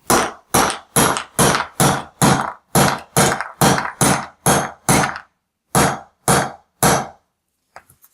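A run of sharp, ringing hammer blows driving a gear onto a Banebot motor shaft, about a dozen evenly spaced strikes, close and loud, pausing briefly before a few final hits and faint taps.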